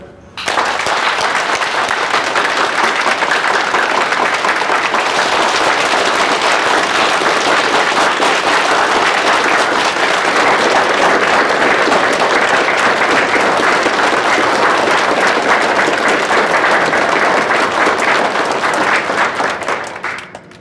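Warm, sustained applause from a banquet audience welcoming a company general manager to the stage, dense and loud throughout, then tapering off at the close.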